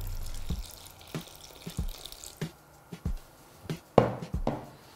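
Water poured from a tap or jug into a bowl of flour and salt for Tunisian asida dough, heard as short splashy drips and trickles in irregular bursts, close and fairly quiet, with no talk.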